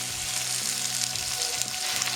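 Onions fry in a pan, for a soya chunk gravy for mushroom biryani, giving a close, steady crackling sizzle with faint stirring.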